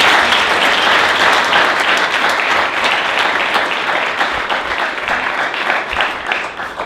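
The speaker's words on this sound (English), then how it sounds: "Let's give Alyssa another round of applause." Sustained audience applause at a tech meetup pitch event, dense clapping that holds steady for several seconds before tapering slightly, with no talking over it.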